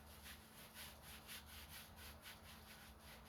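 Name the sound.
scrubbing pits off an aluminum rim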